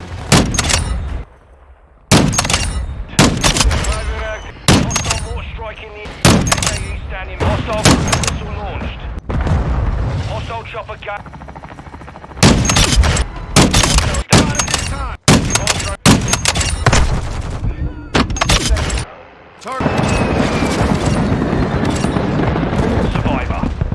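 Rapid automatic gunfire and loud bursts of shooting from the Call of Duty: Modern Warfare 2 (2022) video game, coming in repeated volleys with short gaps and a sustained stretch of fire near the end.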